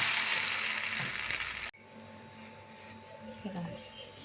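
Fish goes into hot oil with coriander and curry leaves for an Andhra fish curry: a loud, hissing sizzle that suddenly drops to a quieter, steady fry, with a voice faintly underneath.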